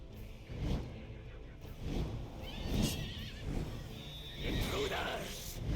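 Pegasus the horse in Call of Duty Black Ops 4 zombies gives several loud, close neighs and whinnies over a rumbling game soundscape with whooshing movement.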